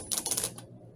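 Rapid rattling clicks from an impact driver's anvil as it snugs screws on a desk setup, a quick burst of sharp metallic ticks lasting about half a second, fairly close and clear, then fading to quiet.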